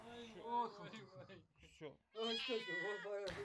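A cat just freed from a basement meows repeatedly and close, with drawn-out, wavering cries separated by short pauses.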